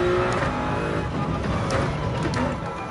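Toyota Supra engine in Gran Turismo at Spa, revving hard and rising in pitch through the gears, loud and close with a steady whirring drone and no talk.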